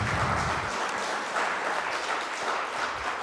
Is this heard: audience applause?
yes